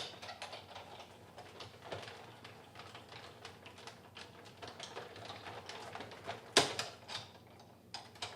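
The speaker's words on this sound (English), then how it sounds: "I'm going to run this through my die cut right back here" A paper crafter's die cut machine feeds layered cardstock through its rollers, giving a steady mechanical rattling and clicking hum close by, with one sharper clack near the end.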